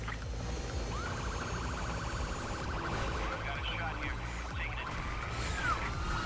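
Police car siren from The Crew racing game, wailing steadily over loud engine and motorcycle game sounds, with someone talking at times.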